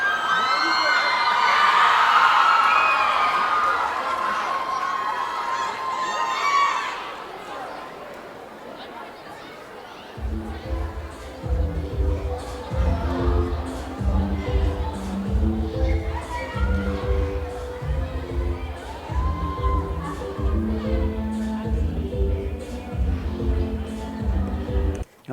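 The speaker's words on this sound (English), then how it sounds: "obviously the audience is louder, but you can hear the cheering as well" A concert crowd cheers and whoops loudly, then fades to chatter before music with a strong steady beat starts, crowd noise continuing underneath, heard from within the audience.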